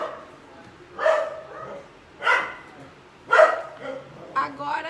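Dogs bark in four separate, well-spaced yaps at moderate distance, with faint background noise between them.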